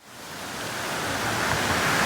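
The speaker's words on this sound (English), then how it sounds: "listen to the sound of nature. We got a waterfall." A waterfall swollen after heavy rain, a loud, steady broadband rush of falling water that swells slightly as it goes on, with no talk.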